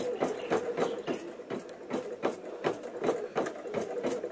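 Blouse strip being stitched on a sewing machine, a steady run of rapid mechanical thumps repeating about twice per second, close and fairly quiet with no voices.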